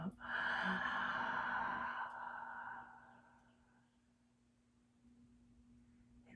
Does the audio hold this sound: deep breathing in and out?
yes